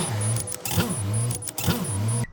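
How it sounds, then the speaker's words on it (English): A 2005 Toyota Corolla with a newly replaced starter cranks with a loud, close, repeating whirring rhythm of roughly three cycles, then cuts off abruptly. "Okay, so now we're going to start the vehicle."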